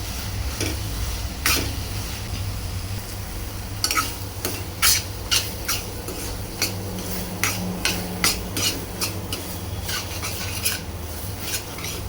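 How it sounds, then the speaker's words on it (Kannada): Oyster mushrooms stir-fried in a pan hiss softly under a low hum, while a spatula scrapes in short, regular strokes that grow busier toward the middle and end. "ಅಷ್ಟು ಮಶ್ರೂಮ್ ಹಾಕ್ಕೊಂಡು ಇದನ್ನು ಸ್ವಲ್ಪ ಒಂದು ಎರಡು ನಿಮಿಷ ಚೆನ್ನಾಗಿ ಫ್ರೈ ಮಾಡ್ತೀವಿ"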